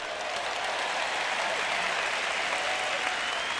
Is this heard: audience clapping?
yes